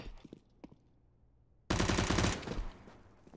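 Counter-Strike: Global Offensive gunfire erupts as a loud, rapid automatic burst of about a second after quieter game ambience with a few soft clicks, then trails off into fainter shots and background noise.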